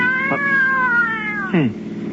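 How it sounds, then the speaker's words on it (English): A cat in a car in a radio drama lets out a long, loud, close yowl, followed by a shorter sharp caterwaul. "One of the cats is in the car."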